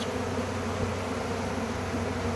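A swarm of honey bees hums in a dense, steady buzz at low volume, continuous and unbroken with no voices.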